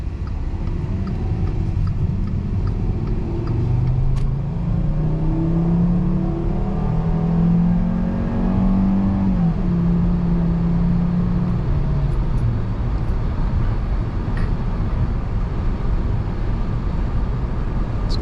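A 2013 Volkswagen Beetle 50s Edition engine revs under throttle from inside the cabin, its drone climbing and shifting pitch through gear changes, steady and fairly loud with no talking.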